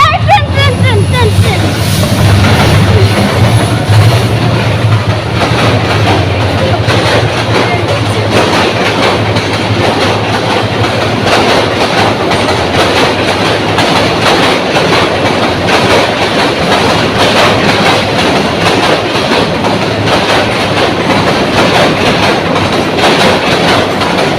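A train rumbles past close by under a bridge in the Dhaka Cantonment area, with steady clickety-clack of wheels on rails, loud and continuous, while people talk over it.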